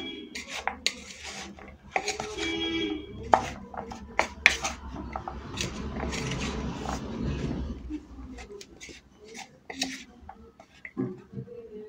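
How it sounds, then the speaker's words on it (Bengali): Peanuts being mixed by hand in a bowl produce rustling, gritty rubbing and scattered light knocks against the bowl. The sound is close and uneven, with a few soft clatters. "এবার বাদামগুলোকে এইভাবে ভালো করে একটু মাখিয়ে নেব।"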